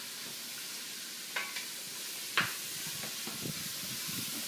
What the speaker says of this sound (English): so you'll cook these until the onions turn translucent